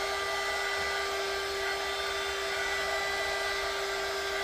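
A heat gun blows steadily and continuously with a high whine as it warms a vinyl top being pressed onto a Redcat Monte Carlo RC car body, loud and close with no talking.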